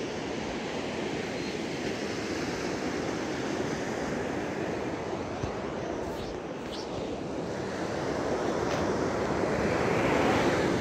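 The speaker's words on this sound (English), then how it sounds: "Look at the water coming in." Ocean surf rolls in on a beach with a dense, continuous wash of waves and wind, loud and steady throughout and growing slightly stronger toward the end.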